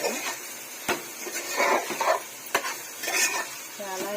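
Prawns coated in chili powder are stirred in a pan, with a scraping utensil, sharp clacks against the metal and a low sizzle under it, repeated in short irregular strokes.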